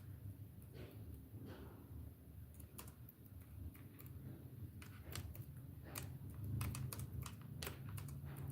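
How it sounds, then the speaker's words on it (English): Someone types on a computer keyboard nearby, a quick irregular patter of crisp key clicks with short bursts and pauses over a soft steady background hum. "thank you for typing for me"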